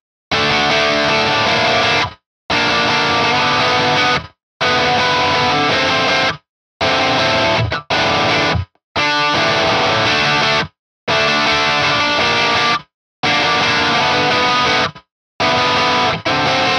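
Electric guitar through a Donlis DH05 humbucker in coil-split single-coil mode with heavy distortion, playing loud riffed phrases in bursts of about two seconds separated by short silences, with no talking.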